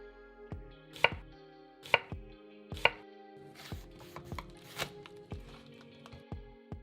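A knife chopping onions on a cutting board during meal prep, sharp distinct knocks spaced about a second apart at first, then quicker irregular cuts, close and clear with no talking.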